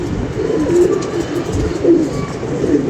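Pigeons arriving on an old roof, several close, soft rolling coos repeating in short phrases over a low background murmur.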